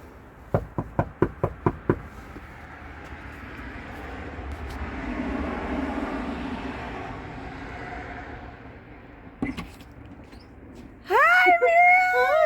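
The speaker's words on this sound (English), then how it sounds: "Gonna knock." Knocking on the front door of a house: a quick run of six sharp raps close by, then quiet outdoor ambience with a passing vehicle, a few more taps, and a voice calling out at the end.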